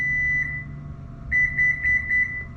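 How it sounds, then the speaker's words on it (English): A single high electronic tone sounds from an LED rear hatch light button on a Toyota Highlander, then a quick series of short beeps follows, clear and close in a quiet room. "You'll hear it beep, and then now it's set at that highest range."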